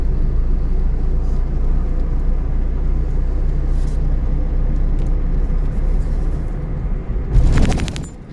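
A car driven on a straight road during a driving lesson: a steady engine and road rumble holds throughout, then a sudden loud hissing, clattering burst breaks in just before the end.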